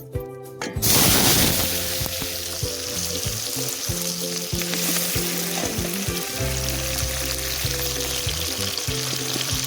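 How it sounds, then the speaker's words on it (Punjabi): Onions hit hot oil in a kadai with a loud burst of sizzling, then fry steadily with crackling and occasional stirring clatter. No talking. "ਕੜਾਈ ਵਿੱਚ ਤੇਲ ਪਾ ਲਿਆ ਹੈ ਜੀ ਹੁਣ ਅਸੀਂ ਇਹਦੇ ਵਿੱਚ ਐਡ ਕਰਦੇ ਆ ਜੀ ਪਿਆਜ਼"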